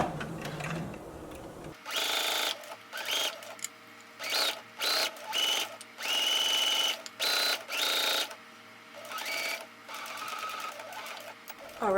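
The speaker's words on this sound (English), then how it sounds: "Lower your needle, begin sewing, and back stitch, and keep sewing until you get to the end." Sewing machine stitching faux suede for a foldover clutch bag at a 3.0 stitch length, running in repeated bursts with short pauses and a brief back stitch, close and fairly loud with no talking.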